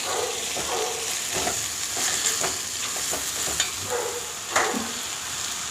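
Ginger garlic paste and chili powder fry in a hot pan, a loud continuous sizzle broken by repeated stirring scrapes and clinks of a spoon, with no voices.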